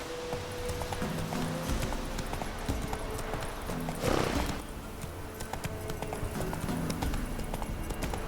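Roach, a horse in the video game The Witcher 3, gallops with rapid rhythmic clip-clop hoofbeats, close and continuous, with a brief whoosh midway.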